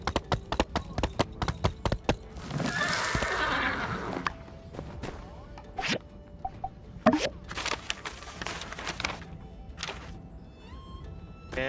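Horse neighs and whinnies loudly and repeatedly, with a long drawn-out call early on, mixed with sharp hoof clops and knocks on a hard surface.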